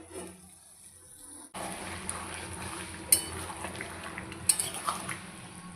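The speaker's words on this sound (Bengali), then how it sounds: "দেখো ভালো করে নেড়ে চেড়ে এবার ঢাকা দিয়ে রেখে দেব।" Marinated meat with cinnamon and cardamom being stirred in a cooking pot, with steady scraping and clinking of a utensil against the pot and a few sharper knocks, close and moderately loud over a low background hum.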